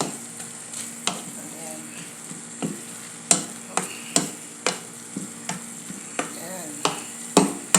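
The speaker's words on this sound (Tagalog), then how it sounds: "halo-halo lang hanggang sa yung dahon niya ay maluto" Saluyot (molokhia) leaves stir-fried with chicken and shrimp in a pan, a spatula scraping and tossing in repeated strokes over a steady sizzle, while a voice speaks briefly.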